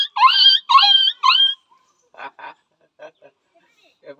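A person imitates a dog with three drawn-out whining, wailing cries in quick succession, followed by a few short, softer breathy sounds.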